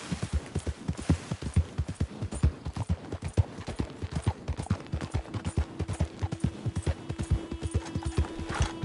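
A horse gallops in the video game Red Dead Redemption 2, with close, rapid, rhythmic hoofbeats pounding steadily throughout.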